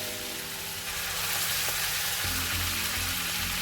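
Beef and oxtail on the bone frying in a pot for traditional Transylvanian goulash, a steady close sizzle with no voices.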